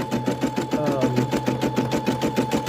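A Brother SE600 embroidery machine stitches out a design, its needle hammering in a fast, steady rhythm with a constant motor hum, close and loud throughout.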